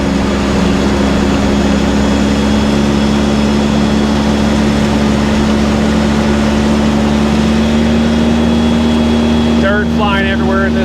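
A Polaris RZR 800S side-by-side engine runs steadily at a loud, constant level with strong low harmonic drone throughout, while a voice speaks briefly near the end.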